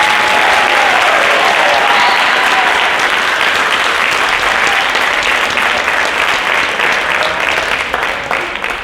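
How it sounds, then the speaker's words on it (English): Audience applauding at a high school jazz band concert, a loud dense burst of clapping that holds steady for several seconds before starting to thin out at the end. "One more round of applause for Austin and Avery."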